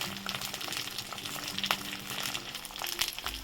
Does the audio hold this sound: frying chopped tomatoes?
yes